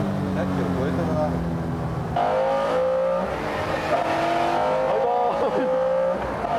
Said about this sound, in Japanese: 拓也エスプリ、すんごい加速。